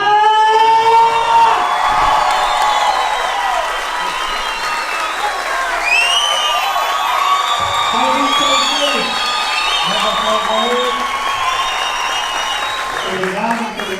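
A stand-up comedy audience applauds and cheers for comedian Afonso Padilha, a dense, steady wash of clapping with whoops rising over it, loud and sustained for the whole stretch.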